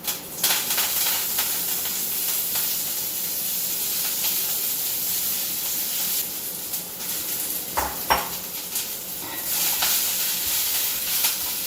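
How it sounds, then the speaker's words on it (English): Fresh methi leaves sauté in hot oil, giving a steady broad sizzle and hiss throughout with occasional stirring scrapes and clinks of utensil against pan. No one speaks. "once the oil is hot, we will add this fresh methi leaves to it and then start sauteing it"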